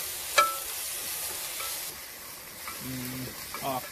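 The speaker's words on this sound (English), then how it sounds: "So just gonna keep sauteing it so it gets the sliminess out." Okra sautés in a pan with a steady low sizzle, a sharp utensil tap near the start and a few faint clinks and scrapes of stirring.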